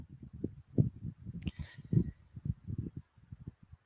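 Late August crickets outdoors in the Adirondack Mountains, a thin high chirp pulsing about every half second, soft in the background beneath close, irregular low rustling and thumps, with a brief hiss in the middle.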